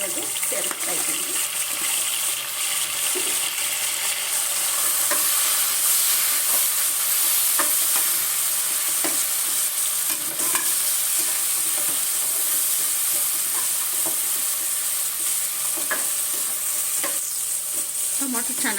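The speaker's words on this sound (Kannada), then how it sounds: "ಈರುಳ್ಳಿ ಚೆನ್ನಾಗಿ ಫ್ರೈ ಆಗಿದೆ. ಈಗ 2 ಟೊಮೊಟೊ ಸಣ್ಣದಾಗಿ ಕಟ್ ಮಾಡಿರೋದು ಸೇರಿಸ್ತಾ ಇದ್ದೀನಿ." Two finely chopped tomatoes are stirred into well-fried onions in a hot pan, giving a loud, continuous sizzle broken by close scraping and stirring sounds throughout.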